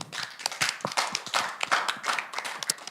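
An audience at a church gathering claps in a loose, uneven patter of individual hand claps, moderately near and fairly quiet, with no talk over it.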